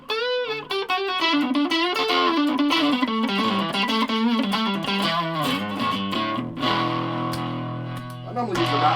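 A distorted electric guitar through a Yamaha SC400 amp with its reverb on plays a melodic line with ringing reverb tail, notes sustaining and washing out as it slows near the end.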